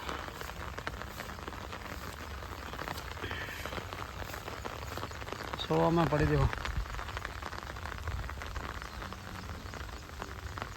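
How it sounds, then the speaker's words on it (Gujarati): Rain falls on a harvested millet field: a steady, close hiss of drops runs throughout, with people talking over it and a brief louder voice midway. "ચલો હવે વરસાદ આવે છે"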